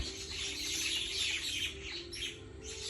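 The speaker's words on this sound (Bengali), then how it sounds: "এই যে পাখি কিচির মিচির করে" Birds chirp and twitter in a dense, faint chorus from a bamboo grove at a resort at night, steady and somewhat distant with no voices.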